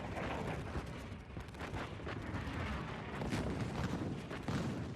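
Dense, continuous rumble of a WWI creeping artillery barrage at Vimy Ridge, with many overlapping booms and blasts rolling together at steady loudness throughout, no pauses and no voices.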